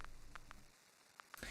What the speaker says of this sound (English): I actually put the vinyl crack on a separate track, and filtered it, EQ'd it, and made it a little louder.